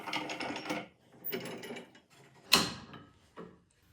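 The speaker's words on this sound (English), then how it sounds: "Our solution for not having a press is to use 2 bar clamps to press these all together while we're gluing them up" Bar clamps tighten on glued skateboard strips in a woodworking shop, making several separate bursts of ratcheting, creaking mechanical clicks close by, with pauses between them and a sharper clack near the end.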